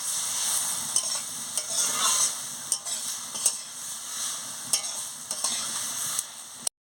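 A steady sizzle rises from ivy gourd frying in a pan. A spatula scrapes and taps through it at irregular intervals, close and fairly loud, until a sudden cut near the end.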